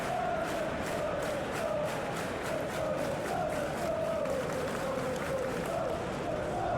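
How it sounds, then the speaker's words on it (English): A stadium crowd at a PES football match between Real Madrid and Newcastle roars and applauds continuously, a dense, steady wash of noise with a rhythmic chanting pulse. "The crowd appreciates good football all round there."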